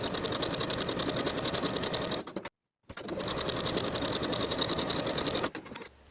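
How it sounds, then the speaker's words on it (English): A sewing machine stitches the pocket facing of a pleated skirt, humming in a steady rapid needle rhythm that stops briefly, then runs on again. "we're going to sew the pocket facing to its seam allowance underneath with 1/8 inch seam allowance"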